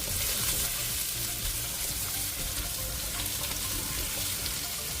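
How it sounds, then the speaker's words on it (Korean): Minced garlic and onion fry over medium heat in a pan with cooking oil and perilla oil, making a loud, constant sizzle with light stirring scrapes. The sound is close up and continuous, with no voices. "팬에 식용유 1큰술과 들기름 1큰술을 두르고 다진 마늘 1큰술과 양파를 넣고 중불에서 같이"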